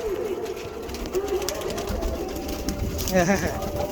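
Golden pigeons coo softly in the background beneath someone talking, with a short burst of cooing near the end.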